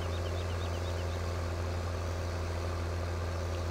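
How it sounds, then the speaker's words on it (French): Farm tractor engine labouring uphill while pulling in a hot hayfield after mowing and tedding, a steady low heavy drone with a strong constant hum, continuous and fairly close, with no talk. "Oh, le tracteur, il a du mal à monter."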